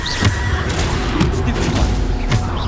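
Bombarda blasting spell explosions in the Hogwarts Legacy video game, loud booming bursts repeating in quick succession amid dense battle noise, with no talk.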